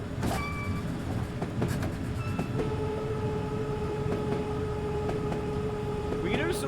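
Locomotives rolling past on the District Line in Train Simulator 2019, a continuous rumble of wheels and traction with clanks and tonal whines, close and moderately loud.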